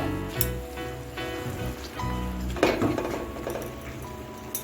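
Spoon stirring a thick mashed potato and semolina dough in a pan, with soft scraping and occasional metallic clinks against the pan, fairly close and steady, with no talking.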